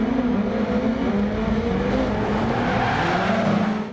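A rally car engine in DiRT Rally 2.0 on a dry World Rallycross circuit in Latvia revs hard and steady at close range, loud and continuous, its pitch wavering slightly as the throttle is held.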